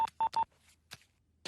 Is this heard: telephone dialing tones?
yes